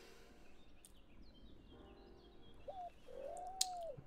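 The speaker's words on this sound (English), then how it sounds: "Well, you hear that? There's some birds." Birds call outdoors beside a fishing spot, a couple of faint whistled notes rising late over a low ambient hum, with one brief sharp chirp near the end.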